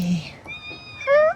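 A pet cat at a yard sale gives a short meow near the end, following brief chatter and a faint rising cry earlier; people speak nearby.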